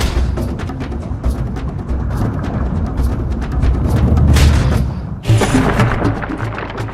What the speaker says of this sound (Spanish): La explosión de una supernova causa estragos en el planeta Tierra